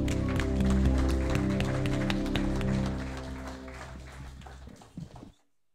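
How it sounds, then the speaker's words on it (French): A church congregation applauds and cheers in acclaim, a steady wash of clapping with a sustained musical drone beneath, thinning out and ending with a few scattered claps before silence. "Est-ce qu'on peut faire une dernière acclamation au roi des rois?"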